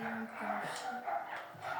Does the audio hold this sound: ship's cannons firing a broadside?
no